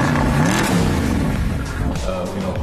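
A Mercedes with an M159 6.2-litre V8 revs loudly up close, a deep, rising and falling engine roar with strong harmonics that sweeps through changing pitch.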